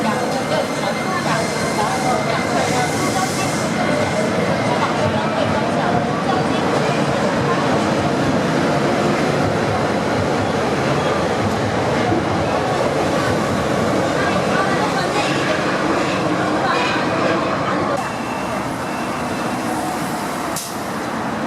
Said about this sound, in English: So along to the metro system we go.